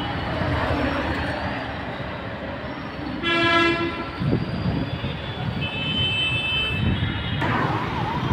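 A metro train on the line returning toward Miyapur rumbles past with a loud horn blast partway through, over constant track and wheel noise, with a brief high whine later.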